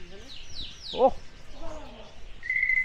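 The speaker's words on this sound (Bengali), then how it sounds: "অসাধারণ কোয়েল পাখি।" A quail calls in a zoo park setting with a few short chirping notes among other bird sounds, while people talk nearby.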